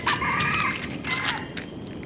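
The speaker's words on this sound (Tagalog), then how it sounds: "So many rooster." A rooster crows nearby, with another crow following, over a steady outdoor background in a forest park in Singapore.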